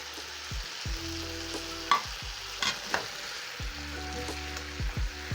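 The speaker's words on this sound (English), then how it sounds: "So next I'll be adding in my fries" French fries stirred in sauce in a pan alongside beef, spatula scrapes and clunks over a low steady sizzle, close and without speech.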